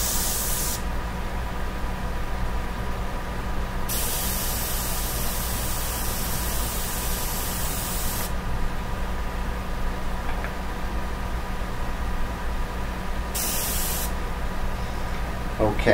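Airbrush spraying paint on a sepia-toned portrait, a continuous airy hiss that swells in bursts over a constant compressor-like hum, close by and with no voices.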